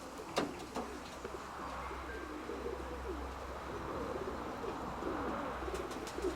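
A grey pigeon coos at a loft, soft repeated low calls running steadily under a faint background hum, with a few sharper bird sounds near the start.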